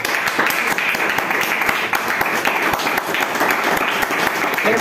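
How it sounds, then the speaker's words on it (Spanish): A church congregation applauding together, dense steady clapping that is loud and close and fills the whole stretch without pause. "Denle una ofrenda de palmas."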